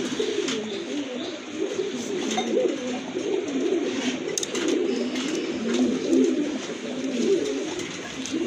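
A pair of blue shirtin pigeons coo continuously and vigorously at close range, their low throaty calls rolling in overlapping waves throughout, with no talking.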